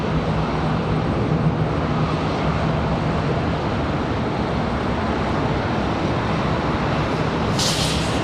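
An airliner taxis toward the runway at Charlotte Douglas International Airport, heard as a loud, steady, broadband jet engine roar that holds constant throughout, without any voices.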